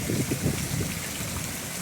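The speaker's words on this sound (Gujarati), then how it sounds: "તો એવો વરસાદ ભાઈ" Heavy May rain falling in the late afternoon, a dense, steady patter of drops close by with no voices, heard for a short stretch.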